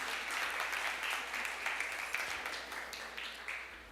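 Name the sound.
congregation applause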